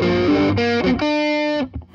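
A Fender Bassman 5F6A amp carries a guitar with a little overdrive, a few sustained distorted notes and chords played loud and close, with no talking.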